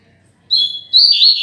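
Double-collared seedeaters (coleiro) loose in a room give two short, bright, close chirps in quick succession; no speech.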